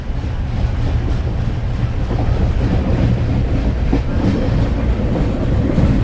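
The Kanchan Kanya Express rolling along the rails: a loud, continuous rumble with a rhythmic clatter of wheels over the track, heard from close by with no talk.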